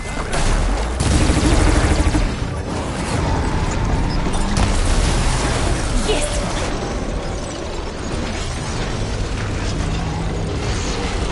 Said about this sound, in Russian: Используем их пушки.